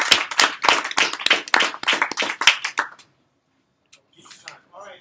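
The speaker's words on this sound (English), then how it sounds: "let's give Andrew another round of applause" A small audience applauds a student's cryptocurrency trading app demo, a few seconds of brisk, close clapping that stops abruptly, followed by faint voices.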